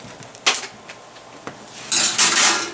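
Pork loin pieces set onto a metal resting rack in a kitchen, giving a few light metallic clinks and taps, with a sharper cluster of rattling contact near the end, close by and with no talking.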